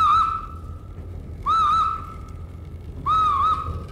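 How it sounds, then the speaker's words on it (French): A train whistle sound effect for a radio drama blows three loud, clear, evenly spaced blasts, each slightly wavering in pitch, with short quiet gaps between them. "le train siffle toujours 3 fois quand il passe devant un troupeau de vaches sacrées"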